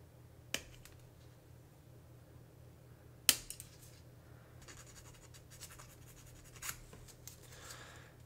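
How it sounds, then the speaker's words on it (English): Snipping the ends off diecast model van parts, heard as a few sharp, isolated snips and clicks spaced seconds apart over a quiet background hum, with faint scraping and handling between them. "I'm gonna just go ahead and snip these ends off here"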